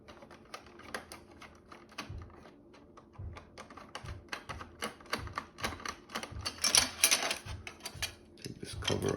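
A flathead screwdriver pries at the plastic cover of an Epson XP6000 printer, giving a series of close clicks, snaps and scraping knocks in an uneven rhythm, with a little faint background talk.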